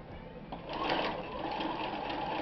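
Bernina 1130 sewing machine running a straight stitch, a close, steady whirring hum that rises after a short start and keeps going evenly without talk.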